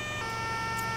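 An ambulance siren from a video game EMS mod featuring a SUMMA 112 ambulance wails steadily, a loud, continuous electronic tone with stacked harmonics, over the low rumble of traffic.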